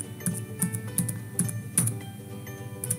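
Clicks from a computer keyboard, with a Tab key press among them, come as a string of sharp, close taps in an uneven rhythm, with no voices.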